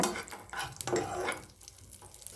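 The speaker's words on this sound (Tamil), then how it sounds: "நல்லா நெய்யில் போட்டு வறுத்து எடுத்துக்குவாங்க" Nuts fry in ghee in a pan for a kozhukattai filling, with a faint sizzle under soft, irregular stirring scrapes. The sound is close and quiet, with no talking.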